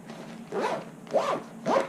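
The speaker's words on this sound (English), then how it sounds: "Alright, now I'm going to zip it up." A GoPro sling bag being zipped shut by hand, three quick rasping zipper strokes spaced about half a second apart, close and clear against a quiet room.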